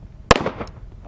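A single sharp M9 pistol shot fired by a female Afghan police officer at an outdoor shooting range, loud and close, with a brief ringing decay and faint background noise afterward.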